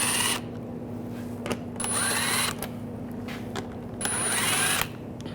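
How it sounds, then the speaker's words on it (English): A power tool with a 7mm socket spins out bumper cover screws on a 2009-2017 Volkswagen Tiguan, in several short whirring bursts separated by pauses, close and fairly loud with no talk. "Using a 7mm socket, take these screws out."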